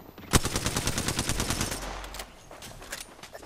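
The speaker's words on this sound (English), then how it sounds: "Being shot at. Opening fire." Gunfire in Apex Legends: a loud sharp shot opens a rapid automatic burst that rattles on for about two seconds, then decays into fading echoes.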